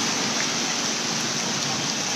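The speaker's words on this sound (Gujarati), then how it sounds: "આખા રાજકોટમાં જે છે ધોધમાર વરસાદ જે છે અત્યારે" Heavy downpour in Rajkot, Gujarat: a loud, dense, unbroken roar of rain pounding surfaces nearby.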